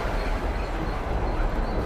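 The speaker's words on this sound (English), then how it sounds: "We caught up to that tram." A tram passes on a city street, making a steady, loud rumbling roar of rail traffic close by that fills the short stretch without speech.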